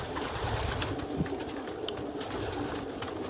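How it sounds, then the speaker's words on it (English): Racing pigeons coo inside a loft, low soft burbling calls rising and falling over a dense, constant bed of bird chatter and rustling, with a few brighter flaps and scuffles close by. "Now you're starting to hear some of the cooing."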